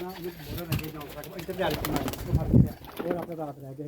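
Pigeons coo in low, repeated rolling phrases close by, with a person talking over them.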